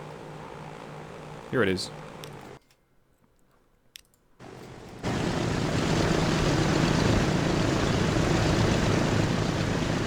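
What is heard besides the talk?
airplanes flying in video game Transport Fever 2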